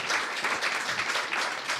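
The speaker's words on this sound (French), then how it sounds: "On peut les applaudir encore." Brief, moderate applause from an audience at a regional sales-excellence competition final, scattered claps blending into a continuous patter.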